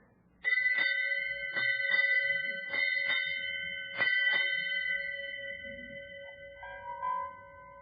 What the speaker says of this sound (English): Will you strike 8 bells, mister?